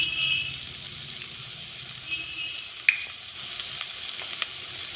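Coriander, chilli and turmeric powders sauté with tender jackfruit in a pan for kurma, a soft, fairly faint sizzle with occasional light scrapes and clicks of stirring, close by.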